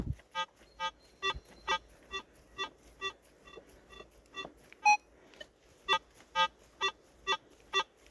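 A steady series of electronic beeps pulsing about twice per second, clear and close, with no one speaking.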